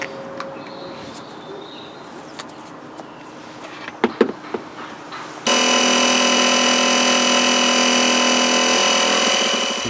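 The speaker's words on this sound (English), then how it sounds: "I'm going to just use this small compressor here, and I'd recommend inflating it over the pressure to about 50 psi" A small portable compressor inflating a car tyre during a puncture repair switches on midway with a loud, steady electric buzzing drone that runs without pause to the end, after a stretch of quiet handling clicks.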